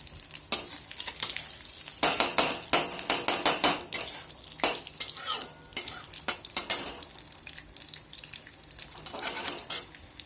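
Cumin seeds and chillies fry in hot oil for chira pulao, a crackling sizzle broken by rapid, loud spatula scrapes and clinks against the pan, close up.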